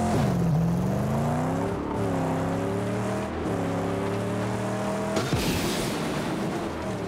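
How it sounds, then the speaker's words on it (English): Car engine in the Mad Max video game roaring under a nitrous boost, a loud continuous drone with rising and falling pitch, brief gear-change dips and a sharp surge of noise near the end, with no talking. "That's the nitrous boost."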